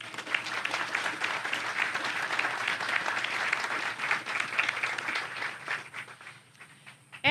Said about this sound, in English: can you please give a round of applause for all those partners?